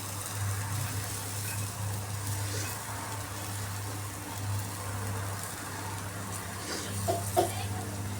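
Food sautés in a pan with a continuous soft sizzle and frying crackle, faint and steady throughout, with a low hum underneath and a couple of small clinks near the end.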